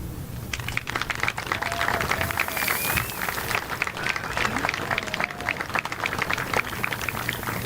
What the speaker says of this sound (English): I ask that you take a minute now and thank them with your applause